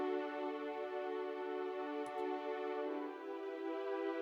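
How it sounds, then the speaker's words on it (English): An Albion 1 long strings patch holds sustained open chords, a warm, steady orchestral string pad with even loudness and no other sounds. "this is Albion 1, the long strings patch."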